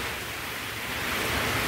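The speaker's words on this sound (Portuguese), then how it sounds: "E agora tá uma ventania, olha a ventania." Strong gusting wind with heavy rain during a storm in the Brazilian backcountry, a steady loud broadband roar with no voices.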